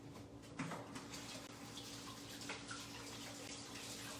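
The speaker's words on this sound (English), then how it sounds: "I gotta wash my hands real quick." A kitchen tap runs steadily while hands are washed under it, a close, continuous wash of splashing water with small clinks and splashes and no talk.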